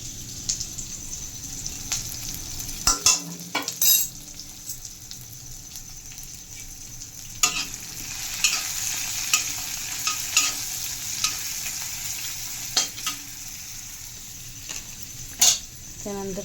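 Chili powder, masala powder, turmeric and cumin sizzle in hot oil while poha is prepared, a steady crackling fry broken by clattering spoon stirs and pan knocks, with someone speaking over it in places.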